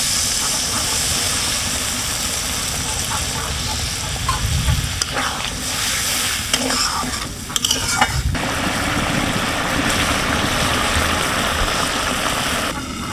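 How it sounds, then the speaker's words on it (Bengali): Meat for haleem stirred and fried with water in a pot, a loud continuous sizzle and hiss with steady scraping of the stirring spoon, running alone throughout. "আমি পরিমাণ মতো জল দিয়ে মাংসটা কষিয়ে নেব।"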